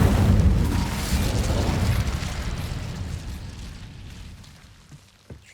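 A Confringo blasting spell goes off in Hogwarts Legacy as a loud, deep boom with a heavy low rumble that slowly dies away. Faint small pops follow near the end, and no one talks.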